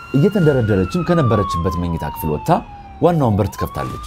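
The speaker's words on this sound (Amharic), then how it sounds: "ከውጭ በኩል የአምቡላንስ ድምጽ ትሰማለች" An ambulance siren wails steadily beneath a narrator's continuous speech, its tone slowly falling and rising in the background.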